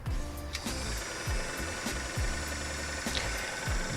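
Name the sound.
vintage sewing machine running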